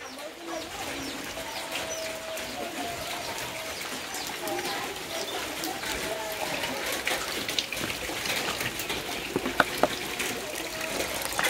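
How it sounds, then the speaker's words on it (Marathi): Rain falls outside in the Konkan countryside as a steady, even hiss that fills the background, with birds calling intermittently and a few sharper knocks toward the end. "बाहेर जोरदार पाऊस पडतोय"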